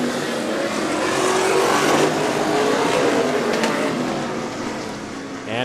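NCMA sprint cars roar around Stockton 99 Speedway in a loud, continuous engine drone that swells as they pass near, with a race announcer talking over the noise.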